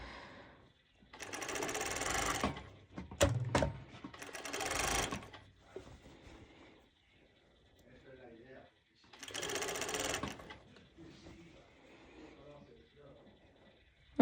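A sewing machine runs in slow bursts while stitching a seam on a sporty ruffled top, with several separate runs of motor whir and a speaking voice between them.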